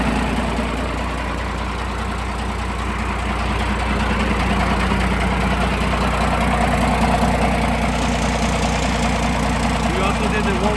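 A first-generation Cummins diesel engine idles steadily after being restarted, a continuous low rumble with a faint knock running evenly throughout at close range.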